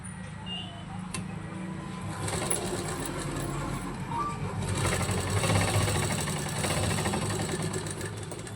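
A sewing machine stitches a baby frock, running with a continuous close mechanical hum and rapid needle chatter throughout, with no pauses and no talking.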